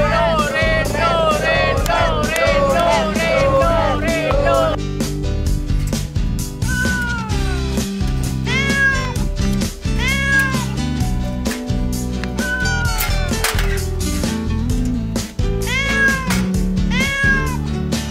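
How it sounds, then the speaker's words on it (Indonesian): Kitten meowing in an Indonesian TV drama scene, repeated high mewing calls in rhythmic bursts, rapid at first then spaced out, over loud background music. "Suara anak kucing, tapi di mana ya?"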